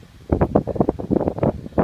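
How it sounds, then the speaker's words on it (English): Gusty wind buffets the microphone in rapid, low rumbling bursts, loud and close, with no voices. "It's getting windy out here and all."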